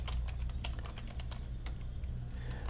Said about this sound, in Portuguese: vou digitar Laravel new em tudo